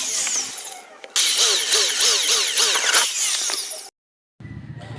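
A power drill bores holes in a galvanized iron sheet clamp, whining in several rising bursts with brief pauses, loud and close, then stops.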